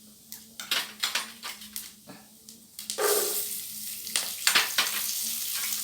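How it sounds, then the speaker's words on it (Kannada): Peas go into a hot pan with turmeric for poha, bursting into a loud sizzle, with a series of sharp metal spoon scrapes and taps against the pan as they are stirred, close up. "ಸ್ವಲ್ಪ ಅರಿಶಿನ ಪುಡಿ ಹಾಕಿ ಈಗ ಬಟಾಣಿ ಹಾಕಿ"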